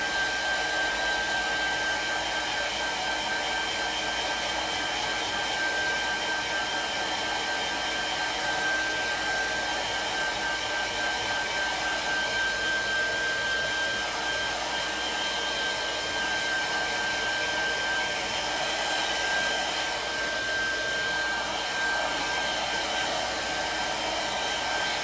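A hair dryer drying a wet handmade bag gives a steady, close, continuous whooshing hum with a thin high whine, unbroken for the whole stretch and with no talk over it.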